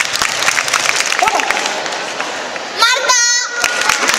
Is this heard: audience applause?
yes